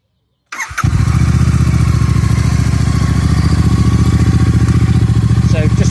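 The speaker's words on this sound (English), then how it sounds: "we need to have the bike running" Royal Enfield Super Meteor motorcycle started from silence and settling into a loud, steady, close-up running idle with an even pulsing throb.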